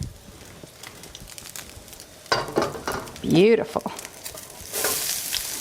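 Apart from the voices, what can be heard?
onions and garlic sizzling in a hot pan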